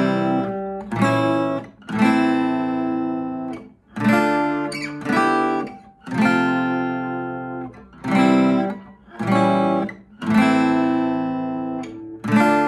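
Acoustic guitar strumming the verse chords of a song, ringing strummed chords in regular bursts of about two seconds each, close and clear with no voice.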